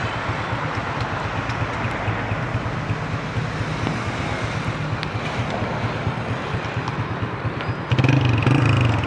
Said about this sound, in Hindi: अब इसको स्टार्ट करें बाइक को